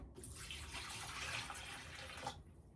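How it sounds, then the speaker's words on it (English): Water pours steadily into a cup for close to three seconds, a continuous rushing splash that starts and stops abruptly, heard alone with no talking. "And I'm going to put 1 more cup in of water."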